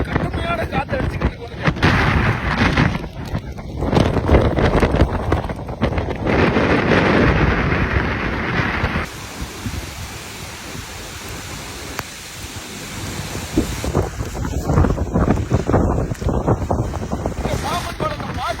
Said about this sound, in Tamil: காத்து பாம்பன் பாலத்தில் அடிச்சு கடுமையான காத்து அடிச்சுக்கிட்டு